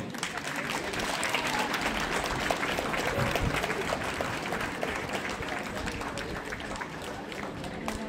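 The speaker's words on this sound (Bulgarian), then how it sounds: "сега искам да ги поздравите с аплодисменти." Loud, sustained applause fills a crowd at the Dryanovo rally finish ceremony, with dense clapping that holds steady the whole time and some chatter mixed in.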